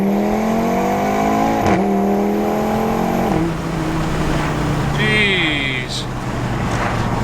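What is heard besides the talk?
Audi RS3 with new intercooler accelerating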